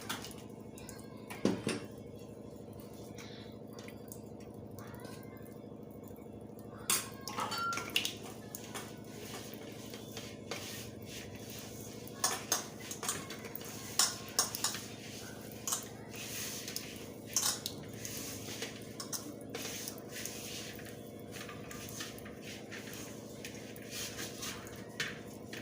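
Wheat flour dough is mixed and kneaded by hand with a little oil for matar puri, giving soft squishing and sticky slapping sounds in an irregular rhythm, close and fairly quiet over a steady low background hum.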